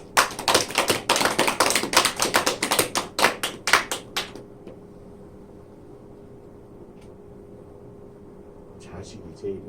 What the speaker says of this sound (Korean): 멀리 있지만 축하 박수 한번 합니다